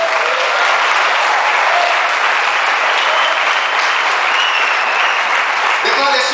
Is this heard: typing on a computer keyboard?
no